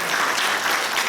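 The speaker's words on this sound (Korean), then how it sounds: "필요한 가족, 박수 한번 해주세요." A church congregation claps together during a Sunday worship service, a brief dense burst of applause at moderate volume with no voices on top.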